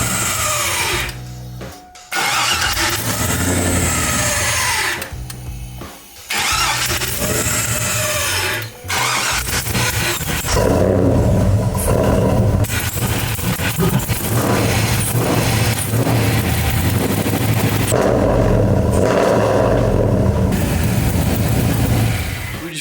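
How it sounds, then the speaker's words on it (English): A truck engine, fitted with mismatched injectors and with its MAF sensor unplugged, starting up after brief cranking and then running loud and rough with rising revs, the sound steady and close throughout. "Now let's start it up and see if it pisses fuel everywhere."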